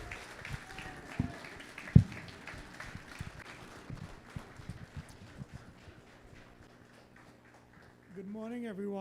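An audience at a live-streamed Amalgamated Security event applauds a featured speaker with a round of scattered, moderately loud claps that thin out over several seconds. A voice begins speaking as the clapping fades.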